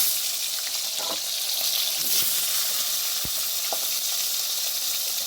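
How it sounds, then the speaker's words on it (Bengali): Potatoes frying in hot oil give a loud, steady sizzle close up, with a few faint clinks from stirring and no voices. "আলুগুলোকে একটু লাল লাল করে ভাজতে হবে"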